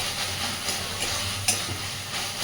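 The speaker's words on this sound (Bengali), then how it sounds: "এইভাবে ভালোভাবে ঘেটে ঘেটে আরও খানিক্ষণ সময় নিয়ে এটাকে ভেজে নেবে" Taro flowers stirred and fried in a pan, a continuous close sizzle with soft scraping strokes of the spatula, steady and moderately loud for the whole stretch.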